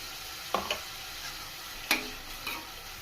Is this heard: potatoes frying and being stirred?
yes